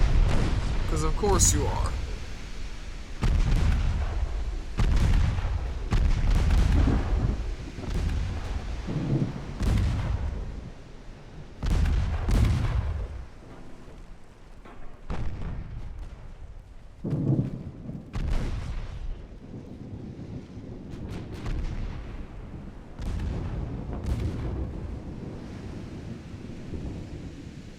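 Naval battle in Ultimate Admiral Dreadnoughts: heavy booming gunfire and torpedo explosions roll out in repeated bursts, loud and rumbling, with a voice talking over the fighting.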